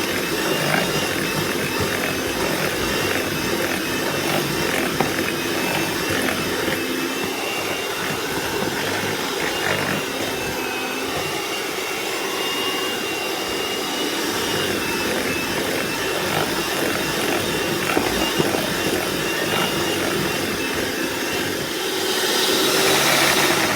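An electric hand mixer runs in a bowl of quick bread batter with eggs, a loud, steady, continuous whirring drone with rattly gear texture that lasts throughout without pause.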